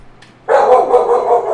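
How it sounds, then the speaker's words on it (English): A dog barks indoors, a burst of loud, closely spaced yips and barks starting abruptly midway and running on without pause. "As you can hear my stupid dog barking."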